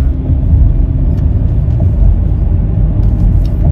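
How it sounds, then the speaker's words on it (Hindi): Heavy road traffic with cars passing close by, a loud, continuous low rumble of engines and tyres without a break. "ट्रैफिक काफ़ी हैवी है यहाँ पे।"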